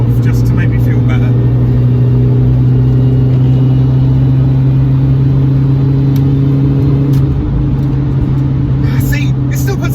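An R53 Mini Cooper S accelerates to overtake a Golf, giving a loud, steady engine drone with a sustained tone heard from inside the cabin, and road noise throughout.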